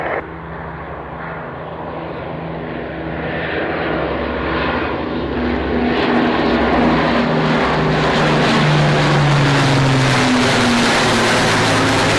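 Fighter jets roaring past at an aviation show, a loud broadband engine rush that swells steadily and holds near its peak, with no voices.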